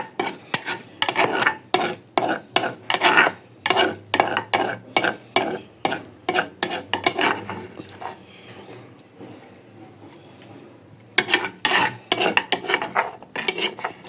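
A utensil scrapes and knocks rhythmically inside a pot while pepper stew ingredients are mixed. The steady stirring clatters for several seconds, pauses briefly, then resumes close and clear without speech.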